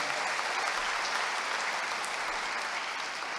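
A church congregation applauds together, a broad, even roar of clapping sustained steadily at full strength from start to finish, with no break and no speech over it.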